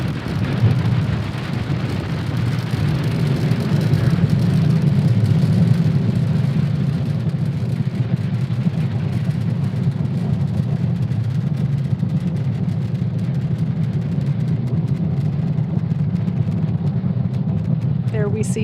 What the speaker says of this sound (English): Falcon 9 has successfully lifted off from Cape Canaveral Space Force Station, carrying our stack of Starlink satellites into orbit